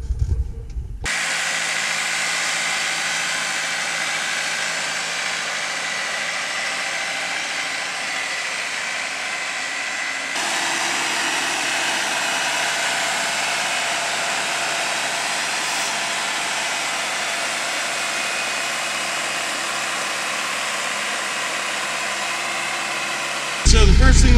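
A Branson 5520c tractor engine runs at a steady, loud drone, with a slight shift in tone partway through that then holds constant until the end.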